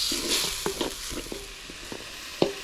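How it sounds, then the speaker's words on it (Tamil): Ground tomato sautéing in a pan for an egg curry base, a steady soft sizzle broken by a few sharp spoon scrapes against the pan, close by with no talking. "தக்காளி நல்லா வதங்கிருச்சு"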